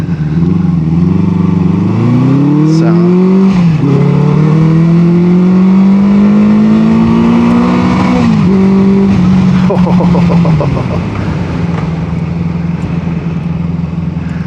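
A 1973 Honda CB350Four motorcycle engine carries a loud, steady drone close by while riding, rising in pitch through the gears with brief dips at each shift.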